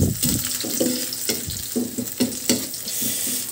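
Squid sautéed adobo-style in a pan, a steady loud sizzle with rhythmic scraping stirs of the spatula repeating roughly every half second.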